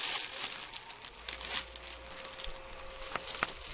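A cheap two-and-a-half-dollar Walmart pillow being cut open to reach the fiberfill, with steady close crinkling and rustling of fabric and stuffing, plus a few sharper snips, no talking.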